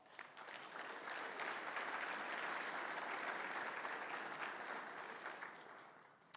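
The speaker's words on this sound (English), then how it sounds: "Give yourselves a round of applause." A conference audience at a real estate standards event applauds together, dense sustained clapping rising quickly and holding steady for several seconds before tapering off near the end.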